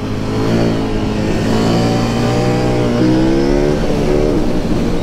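A KTM Duke 890 motorcycle engine pulls hard under acceleration, a loud, close, continuous growl that climbs in pitch through the gears with a brief dip and rise midway, heard alone on the road.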